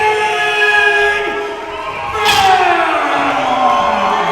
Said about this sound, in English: listen to that crowd, Nick